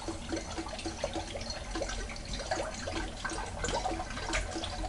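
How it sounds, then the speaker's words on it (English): Film developing chemical is poured slowly back into a bottle at home, a close, continuous gurgling splash of liquid with uneven glugs. "So we're going to pour that back into the bottle very slowly."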